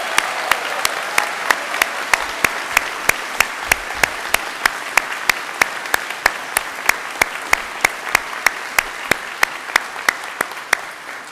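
Steady applause fills a university graduation ceremony, a dense wash of many hands clapping continuously at close range with sharp individual claps standing out throughout.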